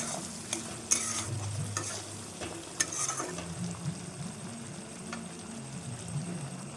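Eggplant pieces cooking in fish oil in a pan for a Bengali dish, a constant soft sizzle with occasional sharp spatula clicks and stirring scrapes close by, no voices.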